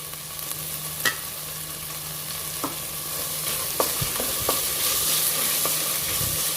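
Tomatoes with coriander leaves stirred in a hot pan for tomato pulao, a steady frying sizzle under scattered spoon scrapes and knocks, close and fairly loud, with no voices.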